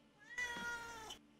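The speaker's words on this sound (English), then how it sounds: "If you can hear my cat in the background" A single drawn-out cat meow, about a second long, fairly clear and close in an otherwise quiet room.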